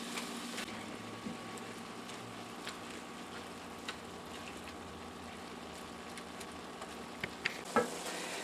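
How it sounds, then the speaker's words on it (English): Ground beef browning in a pot for a sloppy joe casserole, a faint steady sizzle with light stirring ticks and a few clicks near the end. "Now we have the ground beef nice and brown"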